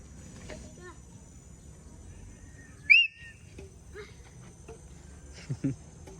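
A single sharp blast on a referee's mouth whistle cuts through steady background noise of a children's game, with a few faint shorter chirps afterward.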